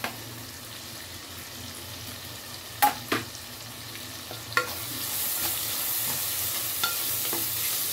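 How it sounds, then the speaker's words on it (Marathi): Finely chopped onion dropped into hot oil for egg biryani: a quiet bed of crackle, a few sharp clanks of a spoon against the pan, then the sizzle swells louder and stays bright and steady. "आता मी तेलामध्ये कांदा, बारीक चिरलेला कांदा ते टाकून घेते."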